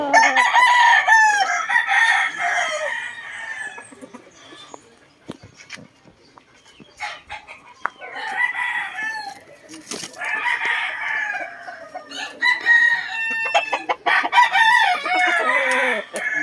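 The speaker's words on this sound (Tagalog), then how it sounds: "mga quality mga manok dito mga guys" Several roosters crow in turn, loud and nearby, with long drawn-out calls separated by quieter pauses and scattered clucking in the background.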